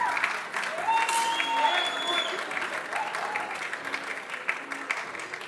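A crowd applauds steadily at a women's 10m air rifle shooting world cup in Bhopal, India, the clapping dense and sustained with whistles rising above it.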